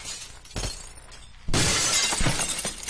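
Glass shatters in the physics game Happy Wheels: a loud close crash bursts out and trails into a dense scatter of tinkling fragments, with a smaller knock just before it and no talk.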